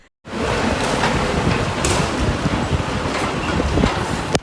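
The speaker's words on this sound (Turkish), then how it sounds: "Manisa'da gece boyunca yağış ve şiddetli fırtına etkili oldu." Strong storm wind of around 70 km/h roars steadily against the microphone with heavy rumbling gusts, a dense, loud blast that starts abruptly and continues without a break.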